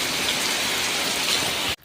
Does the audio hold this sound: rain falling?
yes